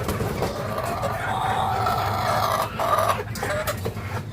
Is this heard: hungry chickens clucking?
yes